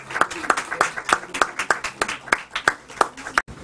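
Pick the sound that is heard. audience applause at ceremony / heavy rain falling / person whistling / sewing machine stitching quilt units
audience applause at ceremony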